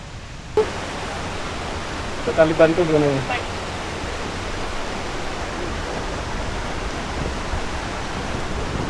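A river flowing across a mountain hiking trail near a campground makes a steady, broad rushing wash that runs throughout, with a voice speaking briefly over it early on.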